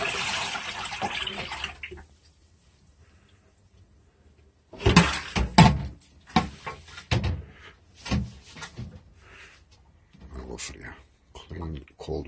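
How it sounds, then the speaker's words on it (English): Cold tap water runs in a steady, close hiss for about two seconds, then stops and gives way to talk, clattering and handling noises. "Clean cold water."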